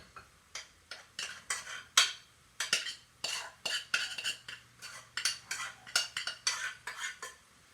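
A spoon scrapes and taps against a bowl while cooked lentils are scooped into it, making a steady run of close, clinky strokes and knocks at an irregular rhythm, with no talking.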